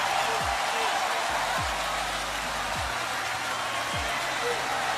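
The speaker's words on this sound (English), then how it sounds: "Listen to the crowd reaction." A boxing arena crowd roars after the Manny Pacquiao vs Oscar Larios prize fight, a dense, unbroken wash of noise that holds steady throughout, with a few dull low thumps underneath.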